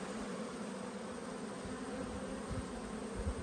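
Honey bees buzz steadily at an open hive during a frame inspection in a strong build-up colony, a dense continuous hum filling the clip at close range with no talk.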